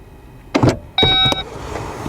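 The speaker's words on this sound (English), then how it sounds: "now I will use the watch provided by Q to open the trunk." A Porsche Taycan's trunk opens electrically, a short close mechanical clunk followed by a brief whirring motor tone with clicks, then quiet.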